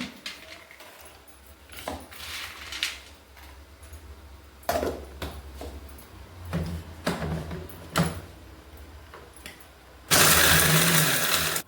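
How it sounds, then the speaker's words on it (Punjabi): After a series of clattering knocks, a mixer grinder kicks in close by, grinding fox nuts with a loud, steady, harsh whirring that continues to the end. "ਮਿਕਸੀ ਦੇ ਵਿੱਚ ਗ੍ਰਾਈਂਡ ਕਰ ਲੈਣਾ"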